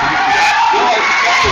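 A high school basketball crowd roars in a gym during an overtime free throw in a Balfour vs Notre Dame tournament game. The cheering is loud and continuous, with a voice carrying over it.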